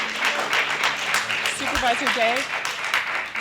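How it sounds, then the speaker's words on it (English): Scattered clapping from an audience at a county board of supervisors meeting during a roll call vote, moderate and uneven beneath a clear voice speaking over it. "With all the clapping"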